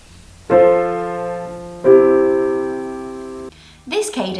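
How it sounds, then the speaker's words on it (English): A plagal cadence moving from chord 4 to chord 1, played as two sustained keyboard chords, each struck clearly and fading slowly, with a short bit of speech following at the end. "The next finished cadence is called a plagal cadence."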